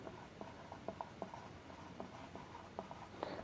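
The bacterium name Corynebacterium diphtheriae being written out, heard as faint, quiet scratchy strokes in short irregular bursts against a soft background hum.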